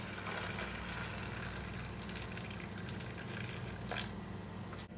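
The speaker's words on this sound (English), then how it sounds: "So you want to put some hot water in." Hot water is poured into a metal roasting tin, a steady gushing pour lasting several seconds, close and fairly quiet, ending with a brief louder splash.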